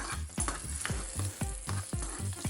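Garlic fries in a pan with a steady, close sizzle, broken by a regular series of scraping stirring strokes.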